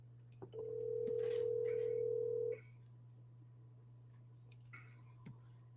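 A phone on speakerphone emits one steady ringback tone lasting about two seconds, loud and close, over a faint constant hum, followed by quiet background and a few soft clicks.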